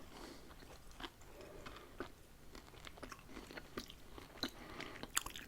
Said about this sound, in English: that hard sugary coating that you crunch into